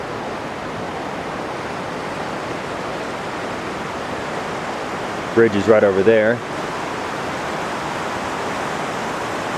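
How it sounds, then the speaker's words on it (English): Steady rushing of the South Fork of the San Joaquin River on a backcountry trip near Evolution Valley, a constant broadband roar filling the whole clip, with someone briefly speaking over it midway. "Had the lovely sounds of the South Fork of the San Joaquin River all night long."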